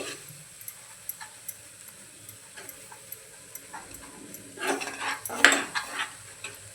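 Garam masala being stirred into paneer matar in a pan, soft spoon ticks and a faint sizzle at first, then louder scraping and clinking strokes near the end, close and without speech.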